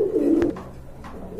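A pair of feather-footed pigeons gives a close, low throaty coo at the start, followed by fainter soft murmuring coos, with no speech.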